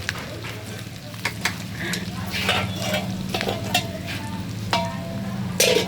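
Shrimp fried without batter sizzle steadily in a pan while being stirred, with scraping and clinking of the utensil against the pan throughout and occasional brief voices in the background.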